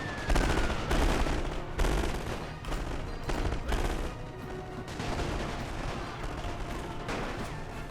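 Submachine guns fire in a World War One strategy battle game, heavy bursts of rattling gunfire, sharp repeated volleys that overlap and echo, loud and close, with no talking.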